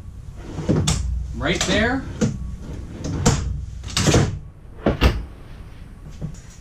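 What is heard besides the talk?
drawers opening and closing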